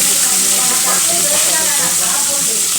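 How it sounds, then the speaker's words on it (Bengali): Prawns coated in salt and turmeric fry in hot oil in a kadai, giving a constant loud, close crackling sizzle with no break. "চিংড়ি মাছগুলো ভেজে নেব নুন হলুদ মাখিয়ে নিয়েছি আর কড়ার তেল গরম হয়ে গেছে"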